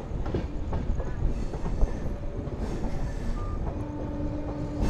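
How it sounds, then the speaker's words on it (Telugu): The Yesvantpur–Sindhanur Express passes close by with a loud, steady rumble and rhythmic wheel clatter over the rails, and a few brief thin squeals ring out along the way. "ఇది చిక్జారూరు, రాయదుర్గం, చిత్రదుర్గం మీదుగా సింధనూరు వెళ్తుంది ట్రైన్."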